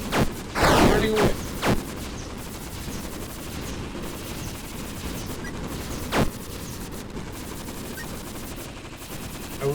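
Shooting grubs in the Approaching Infinity Survivors space game fire bursts of rapid gunfire-like shots over a dense, continuous game soundscape, with a few sharper blasts standing out.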